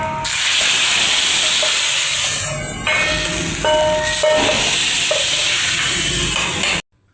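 Hot garlic tadka tipped into a pot of whole masoor lentil dal sizzles in a loud, continuous hiss for several seconds, then cuts off abruptly near the end.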